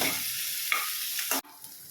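Onions and green chillies sauté in a pan for Chennai vada curry, giving a steady close sizzle with a stirring scrape near the end before the sound drops away quieter.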